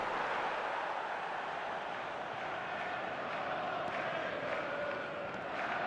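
Stadium crowd noise in an eFootball match rolls on as a steady, dense roar with no break throughout, heard alone with no commentary.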